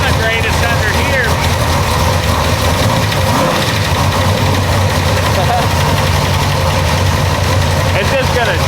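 A big-block Chevy V8 in a Chevy C10 burnout truck idles loudly and close, a steady, rough, uneven rumble that runs throughout, with people talking over it.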